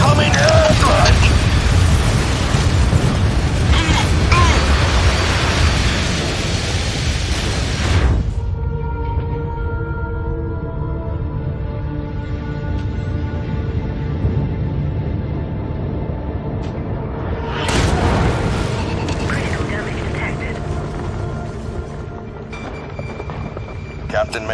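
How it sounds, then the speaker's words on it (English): Airstrike explosions in MechWarrior 5: Mercenaries, a loud roaring blast rumbling for several seconds, then a low droning hum before a second heavy burst, with talking throughout. "Incoming airstrike!"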